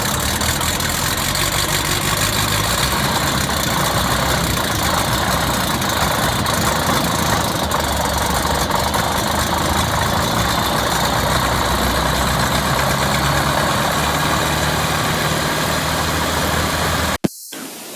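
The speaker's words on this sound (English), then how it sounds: "prepared to run the engine for the first time" A homebuilt RV-12 light airplane engine runs at idle on its very first start, a steady, loud, continuous drone that holds for about seventeen seconds and then cuts off abruptly near the end.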